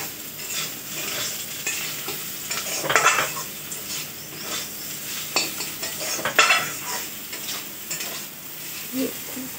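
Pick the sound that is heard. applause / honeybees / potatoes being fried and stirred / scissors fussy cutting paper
potatoes being fried and stirred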